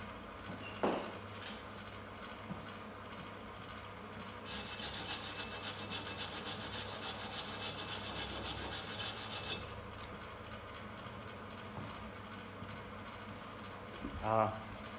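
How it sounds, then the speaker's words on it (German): A wire brush scrubs slag off a flux-core weld bead in a workshop, a steady dense rasping scrub lasting about five seconds, close and fairly loud, with quieter handling noises before and after. "Ich mache jetzt eine Drahtbürste."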